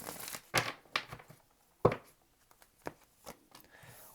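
Tarot cards being shuffled by hand give a handful of brief, crisp papery riffles and snaps. The bursts are irregular and separated by quiet gaps, close by.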